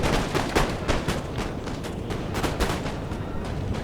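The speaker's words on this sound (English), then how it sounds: "my National Guard and 6th are firing on these units" Dense musket volleys and artillery fire from a Napoleon Total War multiplayer battle, a continuous crackling roll of many overlapping shots with heavy low booms, loud and constant throughout.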